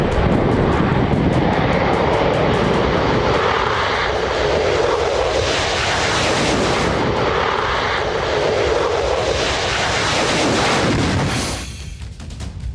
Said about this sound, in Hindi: F-15 फाइटर जेट ने आसमान में परवाज किया।